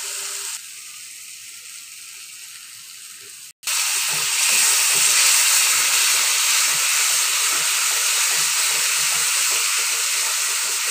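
Bombay duck fish dropped into a hot pan of spices for a potato curry bursts into loud, steady sizzling that stays strong for several seconds after a quieter lead-in.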